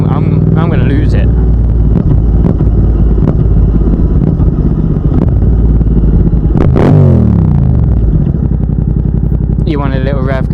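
A Yamaha MT-07 motorcycle engine drones loudly and steadily from the rider's position, with a brief rising rev near the middle, while the rider talks over it.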